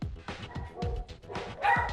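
An aggressive dog, a domineering pet that attacks other dogs, gives a rapid string of harsh, loud snarling barks and growls close to the mic, several bursts in quick succession.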